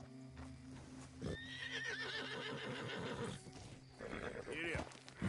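In the video game Red Dead Redemption 2, a horse whinnies loudly with a long wavering neigh, followed by a second shorter whinny, while hooves clip-clop rhythmically underneath and a voice speaks briefly.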